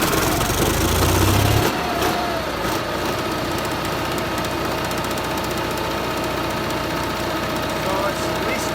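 Small generator engine treated with Seafoam additive, running somewhat rough: a steady mechanical drone holds throughout after a louder, low rumbling burst at the start, with a voice talking over it.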